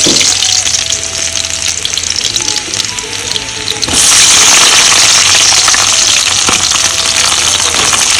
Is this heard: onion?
yes